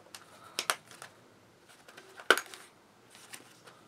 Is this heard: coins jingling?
yes